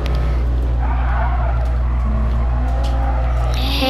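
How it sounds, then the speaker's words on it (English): A steady, loud race car engine roar in Gran Turismo, with a low constant drone and a faint tire screech in the middle, continuous throughout with no talking. "Yeah, and that's the sound of the car"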